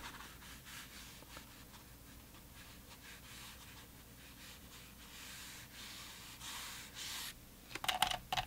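A brush scrubs a watercolor sky wash onto paper, giving a soft, faint, steady rasping texture with light strokes close by.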